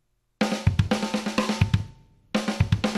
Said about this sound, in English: the pattern, like so many of these patterns that I play, is broken up between the snare and the kick drums